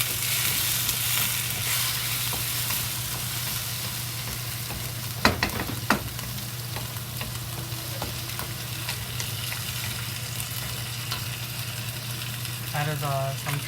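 Tomatoes frying in a pan for a Chinese tomato and scrambled egg dish, a steady low sizzle and crackle with occasional stirring clatter and faint background hum, moderately quiet.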